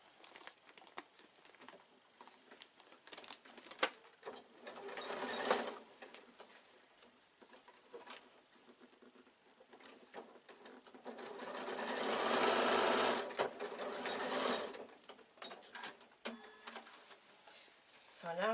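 Sewing machine stitching a quilted evening bag, running in bursts of rapid mechanical whirring with pauses between runs and a longer sustained stretch in the middle, close by, with a voice speaking at times.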